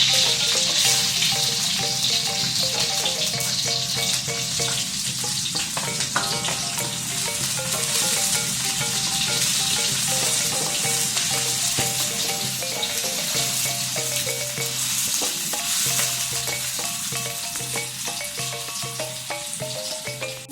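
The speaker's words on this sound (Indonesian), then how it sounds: "Kita tumis pertama bawang putih. Lanjut tumis bawang merah." Garlic and shallots stir-fry in a hot wok for a chicken gulai korma, giving a loud, continuous sizzle with scraping stirs and occasional clinks throughout.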